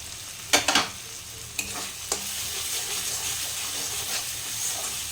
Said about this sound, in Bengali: একটু কষতে হবে মশলাটা